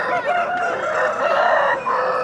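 Chickens and roosters at a village fowl market near a bus stand: a dense chorus of clucking and crowing, loud and continuous, with busy outdoor crowd noise underneath.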